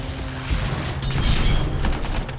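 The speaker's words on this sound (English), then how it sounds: "Like that noise you just heard is a combo we just apparently just did." A combo effect triggers in the video game Anthem, a booming, mechanical impact burst layered over dense, continuous game sound that stays fairly steady for a couple of seconds.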